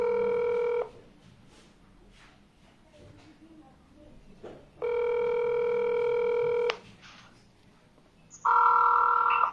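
A phone ringing for a video call: a loud electronic ring tone plays in two long bursts separated by a quiet gap, then a different tone cuts in near the end, close and steady against low background noise.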